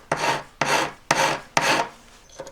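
A fine, sharp metal file is drawn across the edge of an emerald-cut bezel setting, with four even rasping strokes in steady rhythm, close and clear, then a lighter scrape at the end.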